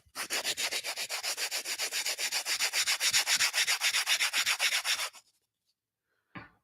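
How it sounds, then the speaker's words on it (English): Sand blocks rubbed together in a quick, even back-and-forth rhythm make about twenty gritty scratching strokes, close and fairly soft, then stop, leaving near silence before one last faint rasp. "Here are some sand blocks."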